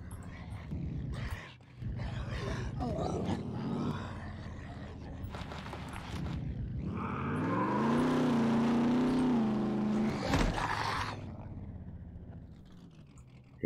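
A truck drives in the survival video game SCUM, its engine rising into a loud, sustained revving whine midway before easing off, with a voice heard near the start.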